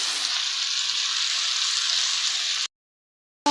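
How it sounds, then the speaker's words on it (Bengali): Bitter gourd sizzles loudly and steadily in hot oil, then the sound cuts off abruptly, with a brief burst of sizzling returning at the very end. "করলা ভাজি করার জন্য কড়াইতে তেল ঢেলে দিন"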